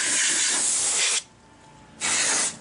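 Loud close hissing blasts of spray cleaning a computer's insides, two bursts separated by a short pause, with no talking.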